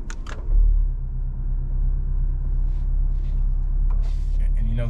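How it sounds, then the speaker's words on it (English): A 2018 Porsche Macan idles in Sport Plus mode, a steady low engine rumble holding evenly throughout with a few brief clicks and faint background noises. "I'm gonna let you guys hear the idle"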